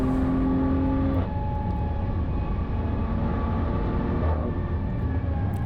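A BMW M4's engine pulls hard at full power around the Nürburgring, a loud, steady, close droning roar that climbs in pitch and then drops sharply twice as the gears shift up.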